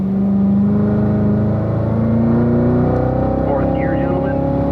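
A Corvette Stingray race car, number 48, drives around a race track with its engine droning loud and steady and its pitch slowly climbing, while someone talks over it throughout.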